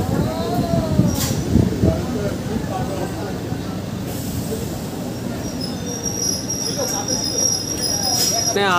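Ranaghat–Gede local train running on the line, a steady rolling rumble with rattling carriages and a few squealing wheel tones, a voice speaking over it at moments.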